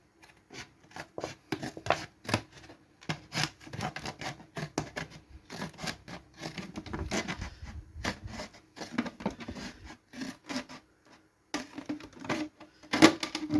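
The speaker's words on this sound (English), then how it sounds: "from here you can get your scissors in" Scissors snipping through a plastic bottle after it has been pierced with a knife, a close run of short, dry crunching cuts in irregular bursts with brief pauses between them.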